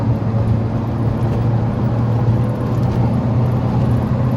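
A Lada Priora engine pulls under throttle in fourth gear while driving, a loud steady low drone with road and cabin rumble and no break across the few seconds.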